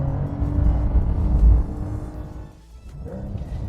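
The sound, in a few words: sports car engine with sports exhaust on racetrack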